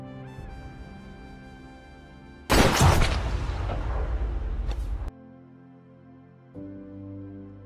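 A sudden loud gunshot from a film scene, a man shot by Masmudar, bursting out over soft background music and ringing into a noisy decay for a couple of seconds before the music returns alone.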